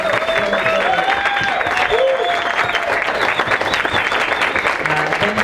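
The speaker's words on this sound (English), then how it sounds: "Let's big round of applause." A crowd at a city bike awards event breaks into loud, sustained applause with some cheering, the clapping thick and continuous throughout while voices call out over it.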